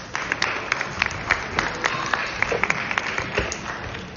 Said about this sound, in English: How about a round of applause for the parents?